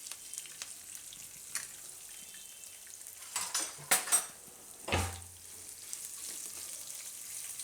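Green and red chillies, curry leaves and asafoetida sizzle in hot oil for a Gujarati kadhi tempering, a soft steady frying hiss broken by a few clinks of a spoon against the pan.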